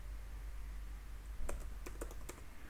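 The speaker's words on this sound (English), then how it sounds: "just add some another name like Peter Parker," Several quick keystrokes on a computer keyboard as a name is typed in, a short close burst of clicks over a quiet background hum.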